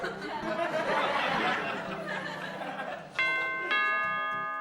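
Doorbell rings with two clear chiming tones near the end, following a stretch of chatter and laughter from people in the room.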